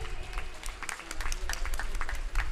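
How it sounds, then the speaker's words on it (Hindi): An audience bursts into steady, dense applause after a performance at a Hindi-language cultural event, with a voice faintly audible over the clapping throughout. "तालियां एक बहुत ही खूबसूरत सी प्रस्तुति के लिए।"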